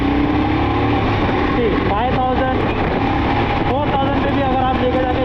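Royal Enfield motorcycle engine drones steadily, with a few rising rev sweeps as it pulls through the gears, heard amid wind buffeting and talk.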